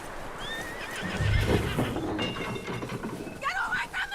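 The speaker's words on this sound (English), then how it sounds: "That looks like a decent horse." Horse neighing with a loud whinny and clopping hooves in the Red Dead Redemption 2 video game, close, with game voices talking around it and a rumbling rail-like background.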